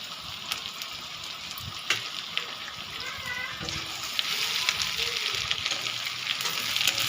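Carrots and capsicum for chili paneer sizzle lightly in a pan, a steady crackling hiss with occasional sharp pops and the scrape of stirring, growing a little louder toward the end.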